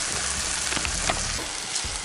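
Mushrooms with chicken and onion being stirred in a frying pan, giving a steady, close sizzle with faint scraping, and no talking.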